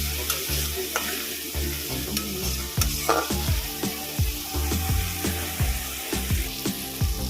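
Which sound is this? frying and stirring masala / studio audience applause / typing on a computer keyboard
frying and stirring masala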